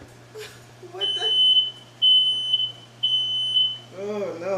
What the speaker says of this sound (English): The fire alarm just came on a little bit